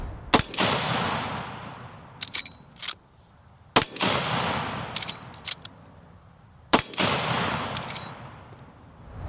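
A Marlin Dark Series 45-70 lever action rifle fires at an outdoor range: four loud, sharp shots spaced a few seconds apart. Each ends in a long echoing decay, with metallic lever-cycling clicks between them.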